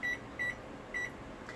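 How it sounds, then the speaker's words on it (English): Three short, evenly spaced electronic beeps from a kitchen timer being set, quiet and close in a home kitchen, with no talking. "I'm just going to go ahead and set the timer for 30 minutes"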